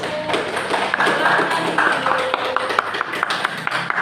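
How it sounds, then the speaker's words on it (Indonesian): A small group clapping for the first team in a classroom, scattered, uneven hand claps over background chatter and voices, fairly close and moderately loud. "Tepuk tangan untuk kelompok 1."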